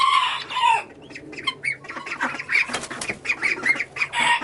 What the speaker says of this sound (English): You can hear, it's kind of like a little whistling. Those are the males.